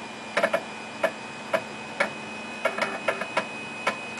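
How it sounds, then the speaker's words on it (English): A 5.25-inch 1.2MB high-density floppy drive booting MS-DOS gives off close, irregular mechanical ticks and clicks as the head steps, about a dozen sharp taps over a steady faint hum. "Anybody that's worked with 5¼-inch floppy drives will recognize that sound."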